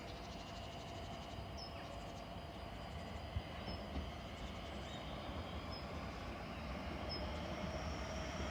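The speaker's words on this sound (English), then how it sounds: "here come our 465s from Slade Green TNR SMD to Ashford Down Sidings" Class 465 electric multiple units roll through Tonbridge station, a steady rumbling rail noise with a faint motor whine, a few high squeals and a couple of knocks, continuous and moderately distant.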